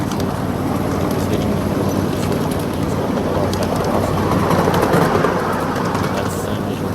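A live steam miniature train runs along the track at a park railway, a steady rumbling clatter of wheels and cars continuing throughout with faint bird calls in the background.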